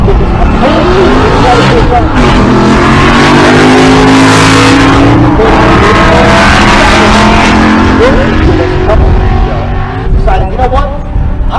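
Cadillac CTS-V wagon drag racing at an outdoor event in Pueblo, Colorado, a loud, continuous engine roar rising and falling in pitch under a constant announcer voice and crowd noise.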